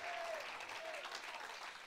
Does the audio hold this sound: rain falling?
no